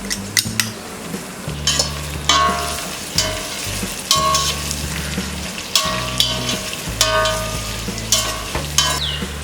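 Long sliced onions with green chilli, ginger, garlic and cashews fry in a pan for sweet corn pulao, a steady sizzle broken by repeated scraping stirs and the clink of a utensil against the pan, close and fairly loud.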